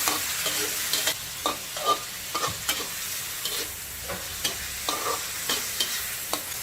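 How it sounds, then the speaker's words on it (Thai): Pork liver stir-fried with light soy sauce in a hot pan: a steady, close sizzle with regular spatula scrapes and taps as it is tossed, and no voices. "ผัดให้ตับสุกเลยนะคะ"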